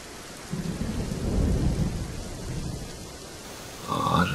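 Steady rain hisses outdoors, fairly close, with a low rumble underneath and a brief brighter burst near the end.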